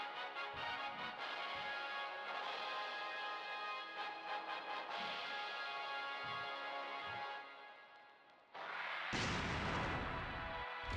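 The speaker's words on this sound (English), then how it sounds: "Explosions!" A string of deep booming explosions from a beat 'em up game rumbles under a sustained musical drone, then a sudden loud blast bursts in near the end.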